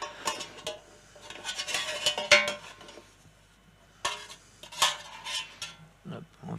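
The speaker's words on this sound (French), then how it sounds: "On vient mélanger les sucs qui se sont caramélisés dans le fond." Spoon scraping and stirring caramelized marinade juices in the bottom of a baking dish, from a duck breast marinated with pineapple and ginger; irregular metallic scrapes and clinks in two bursts with a quiet pause between.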